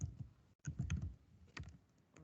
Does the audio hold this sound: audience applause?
no